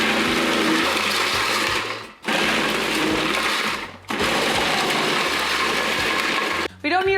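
A kitchen food processor grating a block of Gruyere cheese whirs loudly and steadily, running in three long bursts separated by brief stops, close by with no talk over it.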